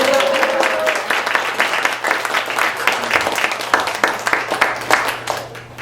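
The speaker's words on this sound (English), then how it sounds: "Round of applause." An audience at an arts panel on mothers in the arts claps in a dense, sustained round of applause that holds steady for several seconds before easing slightly.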